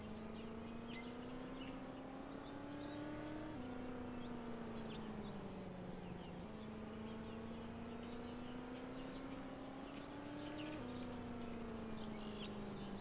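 A race car engine drones steadily in the Speedway Ringer racing game, its pitch climbing slowly then dropping with each gear change, a loud, continuous whine throughout.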